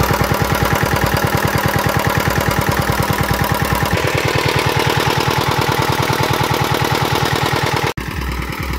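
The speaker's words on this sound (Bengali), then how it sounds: "মেশিনের স্পিডটা এরকমই আছে," A Honda CD Z175 engine driving a water pump runs steadily at normal speed, a loud, close, rapid, even chugging that continues throughout with a brief break near the end.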